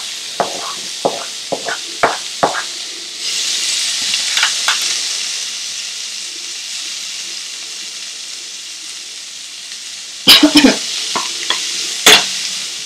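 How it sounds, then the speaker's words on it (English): Finely chopped onion hitting a hot pan of slit green chilies for prawn vindaloo, a steady frying sizzle broken by sharp scrapes and stirs at the start and again near the end, close and with nobody talking. "Now that these have begun sizzling, I'm going to add 1 onion finely chopped."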